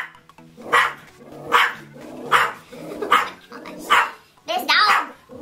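A pet dog indoors barks repeatedly, six loud sharp barks spaced roughly evenly over several seconds, close to the listener, with some faint speech underneath.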